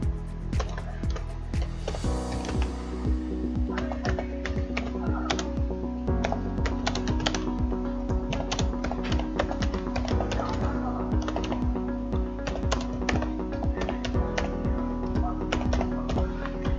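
Keys on a computer keyboard clatter in a steady, busy rhythm throughout, close and clear over a constant background hum, with a brief swell of noise near the start.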